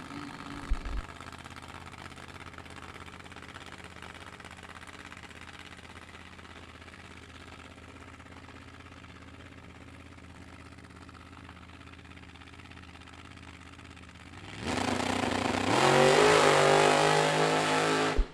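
Vintage drag race car at Byron Dragway, driven by Patrick Hampton, launching hard down the track with its front wheels lifted; a steady low engine rumble holds for most of the run before a loud, high-revving roar bursts in near the end.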